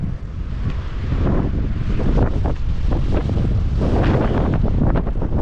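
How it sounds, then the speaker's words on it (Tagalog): Strong outdoor wind in New Zealand buffets the microphone in a steady, roaring rumble, with gusts swelling and easing throughout and no voices. "sobrang lakas ng hangin grabe"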